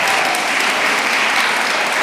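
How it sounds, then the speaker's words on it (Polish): A crowd at a Polish village żur-cooking festival and awards ceremony breaks into loud, dense applause, a continuous close roar of many clapping hands with no speech over it. "Wielkie brawa jej się należy."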